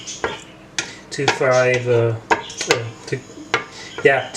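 Ground beef is stirred in a cooking pot with a series of close, loud metal-on-pot scrapes and clinks in an irregular rhythm, with a short voiced sound mixed in the middle.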